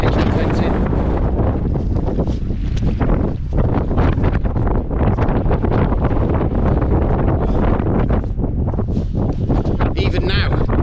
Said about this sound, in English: it is without a doubt the strongest wind I've ever pitched a tent in